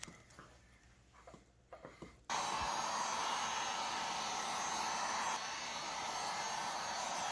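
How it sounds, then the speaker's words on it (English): A heat gun switches on abruptly after faint handling noises, then blows a steady, loud roaring hiss for several seconds while drying mold release between coats on a composites mold. "One way to speed up the time is to use a heat gun, and it'll allow it to dry quicker between coats."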